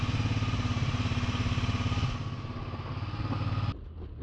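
A Massimo GKM 200 go kart's 200cc engine runs up close with a loud, rapid pulsing chug, easing slightly partway through and then dropping off sharply near the end.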